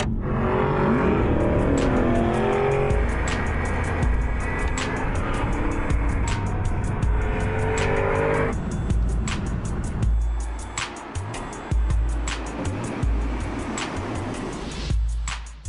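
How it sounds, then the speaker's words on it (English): An Aston Martin sports car in sport mode drives hard, its loud engine revving and climbing through gear changes, then easing off into a rougher, uneven rumble with sharp clicks and ticks toward the end. "the sport button speeds up the engine response and gear changes, which helps to make more noise."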